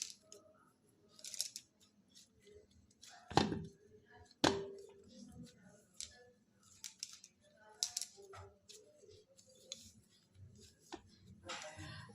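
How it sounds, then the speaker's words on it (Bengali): Dough for luchi is sliced into small portions with a few sharp cutting strokes, two loud distinct cuts standing out over faint kitchen handling noise, no talking. "এবার আমি ছোট ছোট লুচির আকারে লেচি কেটে নেব"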